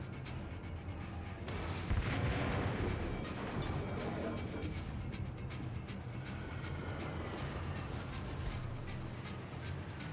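Heavy naval gunfire from a battleship in the game World of Warships: a loud, sustained roar of cannon blasts and rumbling explosions, peaking early and carrying a continuous dense barrage throughout.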